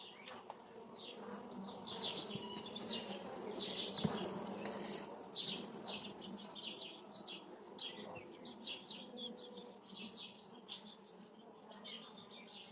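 Honey bees buzz in a dense, steady drone around a hive getting ready to swarm in April, many insects close by, with bird chirps scattered through and no talking.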